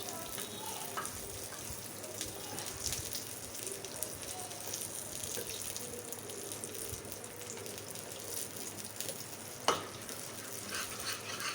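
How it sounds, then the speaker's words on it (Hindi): A steady, moderately quiet sizzle of an omelette frying in a pan for chicken fried rice, with soft stirring and scraping as the egg is broken into pieces and one sharper utensil knock near the end. "तो आए हम अपने ऑमलेट को तलते हैं"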